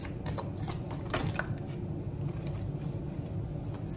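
Tarot cards being shuffled by hand during a HooDoo-style reading, a steady papery riffling and sliding that runs the full length, with brief snappier flicks near the start and a low room hum underneath.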